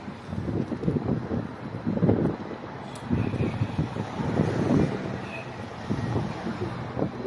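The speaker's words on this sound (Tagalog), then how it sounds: "Bugnaw na pong hangin guys." Cold wind buffets the microphone in uneven gusts outside Notre-Dame Basilica in Ottawa, a rumbling roar that rises and falls, with faint traffic noise in the background.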